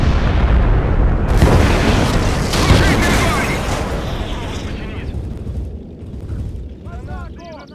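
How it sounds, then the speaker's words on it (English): Massive V2 rocket explosion in the WWII strategy game Call to Arms – Gates of Hell: Ostfront, a loud roaring blast that rumbles and slowly decays over several seconds, with a voice briefly audible near the end. "the V2 rocket, which is so fucking huge that it takes the game a couple seconds for it to realize just how big the explosion"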